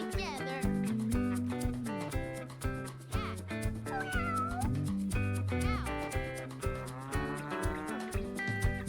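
A cat meows repeatedly over a bouncy children's nursery tune, the drawn-out meows rising and falling in pitch against steady music.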